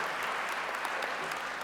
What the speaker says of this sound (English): I think you should all give yourself a round of applause